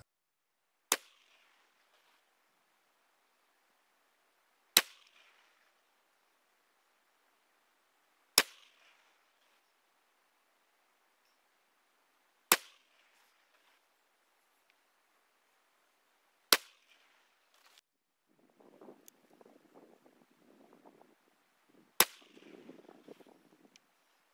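.223 rifle shots firing test loads ring out as six sharp, loud single cracks spaced about four seconds apart, each decaying quickly, with some faint rustling and handling noise between the final shots.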